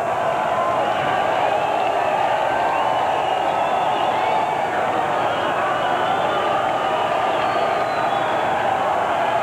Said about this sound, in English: it doesn't look like police efforts to quiet this crowd are doing much good